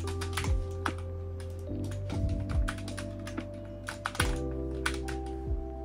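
Quick, irregular clacking keystrokes come from a fast gaming keyboard, sitting close over a steady low electrical hum with a few brief pauses between bursts.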